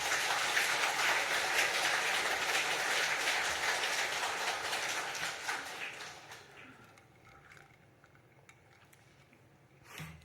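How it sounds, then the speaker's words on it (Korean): A church congregation applauds during a Korean service. Dense clapping from many people starts at full volume, then fades out after about six seconds, leaving quiet room noise and a small bump at the end. "참 잘한다고, 귀하다고 박수 한번 해주면 좋겠습니다"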